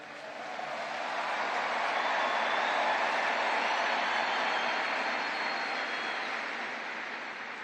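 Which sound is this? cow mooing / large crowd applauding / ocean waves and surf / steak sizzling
large crowd applauding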